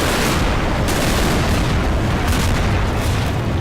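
Artillery fire in the WWII strategy game Men of War: Assault Squad 2: a dense, loud, continuous wall of rumbling booms and blasts that roll on without a break.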